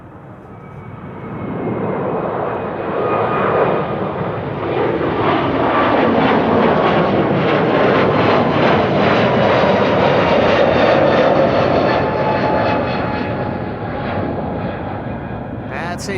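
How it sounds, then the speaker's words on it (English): A JetBlue Airbus A321neo jet taking off from Amsterdam Schiphol Airport, bound for Boston: a loud, sustained broadband engine roar swells over the first two seconds, holds steady with whining tones through the middle, and eases slightly toward the end. "That's a JetBlue A321neo on its way to Boston, Massachusetts."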